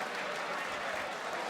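A darts crowd at the 2018 BDO World Championship applauds as players walk onto the stage, steady dense clapping filling a large hall with no break.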